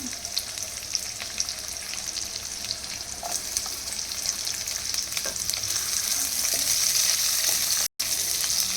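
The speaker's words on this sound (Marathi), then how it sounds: "नंतर याच्यामध्ये उभा चिरलेला कांदा टाकून द्यायचा." Sliced onion frying in a pan with coarse ginger-garlic paste, a steady loud sizzle with faint scraping, rising slightly toward the end with a brief dropout near the eighth second.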